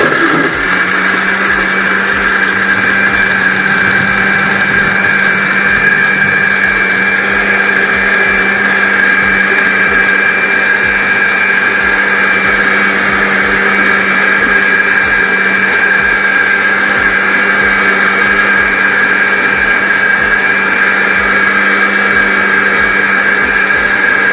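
A blender runs continuously at high speed, whirring loudly and steadily as it purées watermelon chunks with about 200 ml of water into juice, with no speech over the motor.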